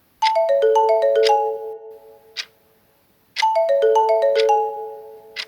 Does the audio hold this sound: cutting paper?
no